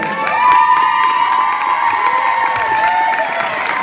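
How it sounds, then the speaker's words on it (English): High school students in a gym in Whitesville, Kentucky cheer and shriek loudly while seniors pie a teacher in the face at a charity fundraiser, a sustained, high-pitched crowd roar with scattered clapping. "So let's all cheer on the seniors while they pie Mr."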